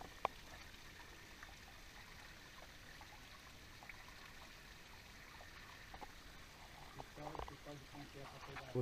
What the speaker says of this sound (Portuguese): Essa fonte que tem aqui é uma fonte que ela sai um pouco mais de água.